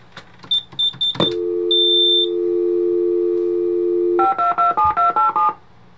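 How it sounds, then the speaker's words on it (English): An 1980s FBII StarFone alarm panel dials the central station: a few short beeps, then a steady dial tone, followed by a quick run of about eight DTMF tones, loud and clean. "As soon as I enter the code, the panel is going to immediately start dialing."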